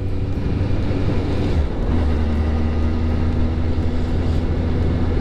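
A Kawasaki Ninja ZX12R motorcycle is ridden along open roads, its engine a loud, steady drone mixed with rushing wind, with the engine pitch shifting about a third of the way through and no talking.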